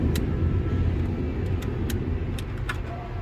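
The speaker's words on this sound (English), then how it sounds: "The blower's working." Blower motor of a 1999 Ford F250 runs with a steady broadband whoosh and low hum, while a few faint clicks and taps come through over the top; no one talks.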